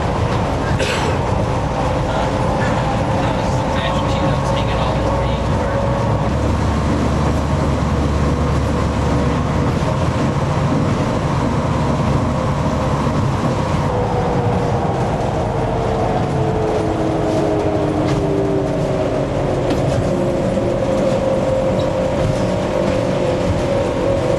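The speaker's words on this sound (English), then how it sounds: "So we're on the monorail on our way home." Interior of a Seattle monorail car in motion, a steady loud rumble and whine of wheels and motor running throughout, with a rising and falling pitch as the train travels.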